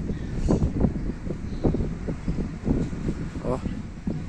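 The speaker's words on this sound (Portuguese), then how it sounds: "o vento tá muito forte." Strong outdoor wind buffets the microphone while someone flies a GT kite made of buriti and plastic. A steady, rough low rumble with gusty surges runs throughout, and voices can be heard under it.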